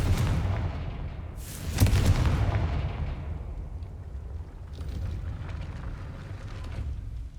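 A Confringo spell explosion in the video game Hogwarts Legacy lands as a deep, rumbling boom that fades slowly, followed by softer low rumbles.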